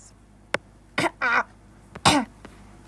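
Several sharp coughs and throat-clearing bursts come in quick succession, close and fairly loud, separated by short quiet gaps.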